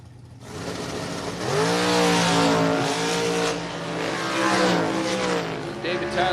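A pair of dragsters roars off the line at a bracket drag race, engines rising sharply in pitch as they launch and accelerate, loud and sustained with a commentator's voice running over the noise.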